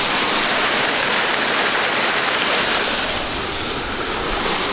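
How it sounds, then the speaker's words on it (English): Waterfall at Oughtonhead near Hitchin, a steady, loud broadband rush of falling water close to the microphone, unbroken for the whole stretch with no voices. "That's what the waterfall is."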